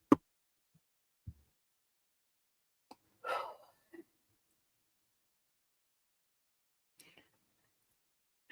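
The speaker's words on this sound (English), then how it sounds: "sorry, I have the hiccups" A woman hiccups a few times at a quiet late-night beading table, short sharp isolated bursts separated by long silences.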